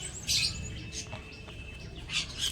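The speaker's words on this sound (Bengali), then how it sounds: "জোড়া দিয়ে আজকে বাচ্চা করতে করতে করতে আজকে আমার এতগুলো পাখি হয়েছে।" Pet birds in a home breeding setup chirp in several short, high tweets, moderately close, over a low steady background rumble.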